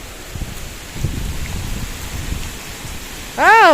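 Heavy rain from Cyclone Remal patters steadily outdoors on a muddy street, a dense close hiss with soft thuds, ending in a brief loud rising-and-falling tonal wail.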